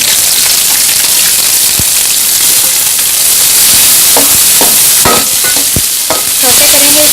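Cabbage sautéing in oil in a pan makes a loud, steady sizzle with occasional clinks and scrapes of stirring, close and alone with no voices.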